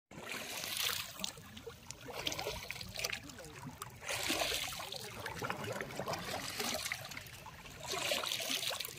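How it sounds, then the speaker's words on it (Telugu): A small boat moves across the Brahmasagar reservoir, with water sloshing and trickling against the hull in soft surges that rise and fall, close by and without talk. "పడవ ప్రయాణం."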